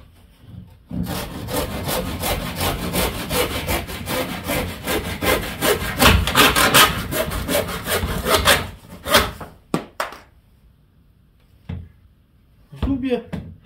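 A Denzel wood hand saw with 3D-sharpened teeth saws through wood containing two nails, producing fast, loud, steady rasping strokes for about eight seconds, then a few knocks and someone speaking afterward.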